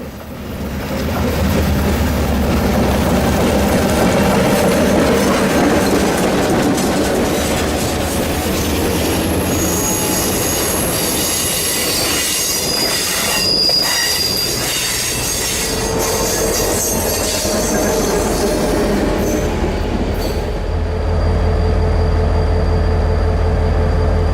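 An Orlando and Northwestern tourist railroad train runs steadily and loudly nearby, with wheel squeal and rolling rail noise throughout and a deep rumble rising toward the end.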